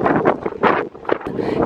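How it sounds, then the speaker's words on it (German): Strong wind roaring at Hoover Dam, buffeting the microphone in loud, continuous gusts that swell and dip with brief lulls. "hier geht so der Wind, ihr glaubt es nicht"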